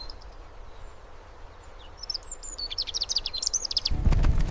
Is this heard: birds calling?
yes